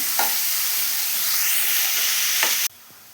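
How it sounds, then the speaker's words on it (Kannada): Onions and salt fry in hot oil in a pan with a loud, dense, continuous sizzle close by. A couple of quick stirring scrapes cut through before the sound drops off suddenly near the end. "ಮೊದಲು ಒಂದು ಪ್ಯಾನ್ಗೆ ಎಣ್ಣೆ ಕಾದ ನಂತರ ಈರುಳ್ಳಿ, ರುಚಿಗೆ ತಕ್ಕಷ್ಟು ಉಪ್ಪು ಹಾಕಿ ಚೆನ್ನಾಗಿ ಫ್ರೈ ಮಾಡಿ"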